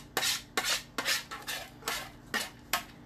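A spoon or spatula scrapes and clinks against a bowl while butter and almond are mixed, in about eight rhythmic, close strokes with no talking.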